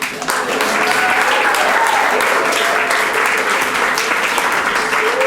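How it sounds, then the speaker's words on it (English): A theater audience applauds at a live comedy festival performance, a loud, continuous wash of clapping that holds steady throughout, with some voices faintly audible within it. "Can I get a round of applause?"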